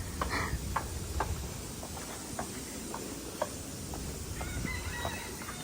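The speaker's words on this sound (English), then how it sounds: "A random rooster." A rooster calls in Miami amid a noisy outdoor background, its short clucking calls recurring faintly at intervals over steady ambient rumble.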